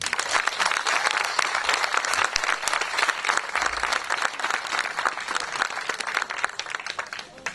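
Concert crowd applauding the band's new drummer, with steady, dense applause from many hands that fills the whole stretch at an even level.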